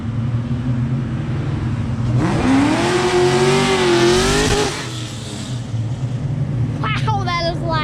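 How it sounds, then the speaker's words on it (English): A car does a burnout at a car show gathering, its engine roaring loud and rising as the wheels spin, with a rough, wavering revving tone over steady background rumble and crowd noise. "Now that's how you spin wheels."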